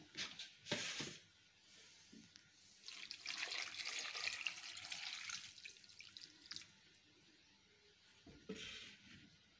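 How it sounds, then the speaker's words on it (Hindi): Water poured into a cooking pot while making petha sweet, an intermittent splashing pour with a longer steady stream in the middle and brief splashes at the start and end, close and soft. "अब इसमें इतना पानी डालेंगे कि ये डूब जाए"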